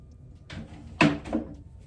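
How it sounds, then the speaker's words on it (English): A couple of soft wooden knocks and a sliding bump, like a drawer being pushed shut, in an otherwise quiet room. "I'm just going to put that in the drawer as well"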